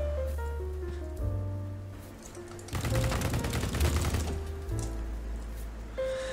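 Ultimax 100 light machine gun firing in BattleBit Remastered, with rapid sustained bursts of automatic fire from about 2.7 to 4.5 seconds over steady game music and ambience.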